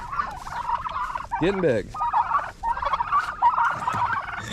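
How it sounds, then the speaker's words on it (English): Homestead turkeys gobble in a burst of loud rattling calls, mixed with repeated shrill fowl chatter nearby, while a person speaks briefly. "And then there's our turkeys."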